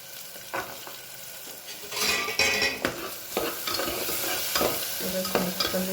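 Peas stirred in a pan with red chili powder, turmeric, green chilies and tomato, giving a steady close scrape and clatter with soft sizzling and a few sharper knocks, no voices.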